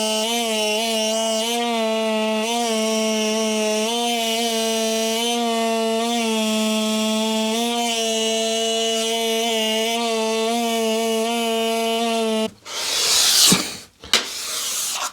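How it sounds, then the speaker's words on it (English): A power sander whines with a steady tonal hum as it sands the top of a wooden staircase, running close and continuous before a few rough scraping bursts at the end. "I'll also use this sander to sand the top of this."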